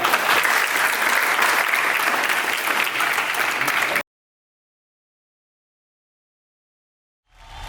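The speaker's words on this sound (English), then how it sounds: "please welcome them with a huge round of applause" Loud, dense applause from a large crowd at a Republic Day celebration at SCB Medical College that cuts off abruptly partway through, followed by silence before another sound begins.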